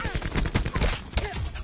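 Fortnite gunfire comes as rapid overlapping bursts of shots, loud and close, in a short busy flurry.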